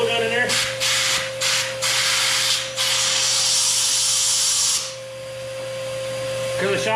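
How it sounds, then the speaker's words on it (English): An air blow gun blasts debris out of a hole drilled in shop concrete with several short loud hissing bursts, then one long sustained blast, over a steady low machine hum; brief talk accompanies it. "Then put the blow gun in there."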